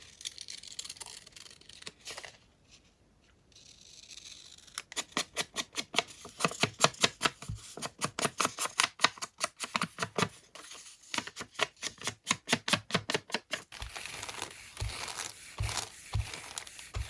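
Scissors cut through paper for a mixed media coloring book craft, making long runs of rapid, rhythmic snips close up, with a few pauses and paper rustling in between.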